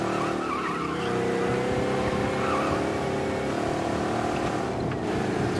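A 165-horsepower car driving in the video game Mafia, its engine droning steadily and close throughout with a constant rumbling tone and slight tire noise, no talking.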